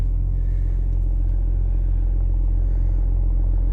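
A 2011 BMW 335d diesel with 325,000 miles idles steadily at close range, a continuous low rumbling drone with no revving.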